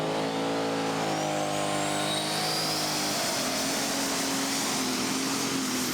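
A pulling tractor named Maximum Risk at a Eurocup tractor pulling final, its turbo engine roaring loud and continuous under full power, with a rising turbo whine and shifting harmonics over six seconds.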